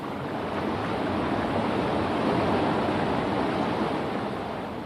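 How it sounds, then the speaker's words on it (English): Water pours over a small waterfall into the stream below, a steady, full rushing roar with no voices. "As water flows over this fall, it carries some air with it into the stream below."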